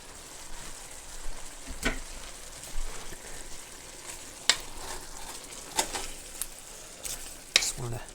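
Sprouts are stirred in a liquid-filled pan on the stove, giving a steady low sizzle with scattered clinks and scrapes of a utensil against the pan, close and moderately loud, with no talking.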